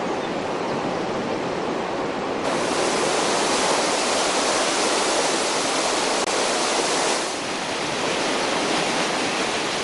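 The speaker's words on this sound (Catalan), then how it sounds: "el riu torna a agafar velocitat i es desfila en saltants d'aigua grossos i petits" Mountain river in Aigüestortes tumbling over large and small waterfalls, a loud, dense, unbroken roar of rushing water that swells slightly midway, with no voices.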